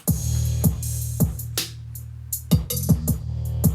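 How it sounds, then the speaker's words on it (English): A hip-hop beat with a booming kick drum and ticking hi-hat plays alone, the punchy low thumps repeating in a steady pattern alongside snare-like hits. "Add a kick and a hi-hat over here, this is what it sounds like."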